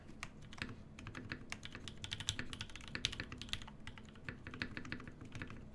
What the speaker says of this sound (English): It's like not louder than the rest of the keys like it often is.